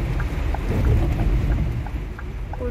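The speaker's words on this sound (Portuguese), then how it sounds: "olha a chuvarada aqui, gente" Heavy rain drums steadily during a nighttime storm on the road, a dense, loud downpour with a low rumbling undertone and no talking.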